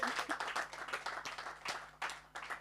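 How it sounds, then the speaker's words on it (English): Audience applause at a start-up accelerator event, a steady burst of many hands clapping at close to moderate distance with rapid irregular claps throughout, a few louder individual claps standing out near the end. "Please give her a round of applause, please. Make it loud."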